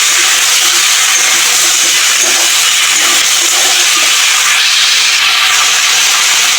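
Vegetables fry in hot oil for a tangra fish curry with tomato and coriander, making a loud, steady, close sizzle and hiss that runs unbroken throughout, with no talking.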